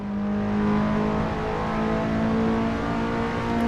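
A race car in a racing video game accelerates at Sebring, a loud, steady engine whine that climbs and holds a strong harmonic pitch for a few seconds with no voices over it.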